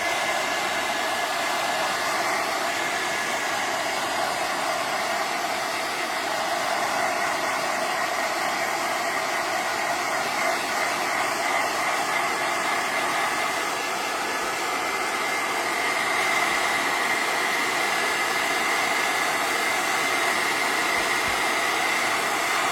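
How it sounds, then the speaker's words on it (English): A hair dryer blows steadily and loudly for the whole stretch, a constant airy whoosh with a faint motor hum and no pauses. "I'm gonna give this a quick dry with the hair dryer."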